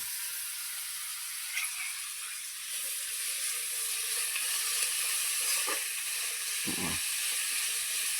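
Grated bottle gourd roasts in hot oil for dudhi halwa, giving a steady close sizzling hiss that lasts throughout, with a brief scrape of stirring near the end.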